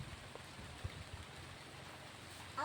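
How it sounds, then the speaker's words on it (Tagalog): Faint, steady hiss of rain falling outdoors near a well, a soft continuous wash of drops with a few slightly louder patters, no talking. "Ulan na."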